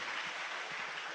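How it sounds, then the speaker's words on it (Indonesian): Applause from a seminar audience, a steady broadband patter of many hands clapping at moderate distance throughout, with no talk over it. "Tepuk tangan buat beliau."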